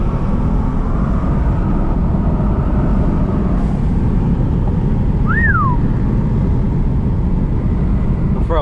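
A BMW 640i Gran Coupe with an MHD Stage 2+ tune and TurboSmart blow-off valve launches hard from a red light with wheelspin. A loud, continuous engine and road roar carries a brief rising-then-falling whistle near the end.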